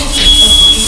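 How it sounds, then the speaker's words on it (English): Smoke detector alarm sounding indoors as chocolate burns, a steady high-pitched electronic tone running continuously through the second, fairly loud over a background hum. "Even the smoke detectors are going off."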